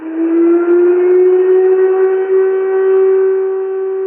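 A loud air raid siren wails continuously on a steady, slightly rising tone in a frontline Ukrainian city, filling the whole stretch with no other sounds.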